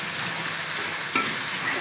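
Spices for a tadka tempering sizzle and crackle in hot oil, a steady bright hiss with a brief sharper spatter partway through, close and alone.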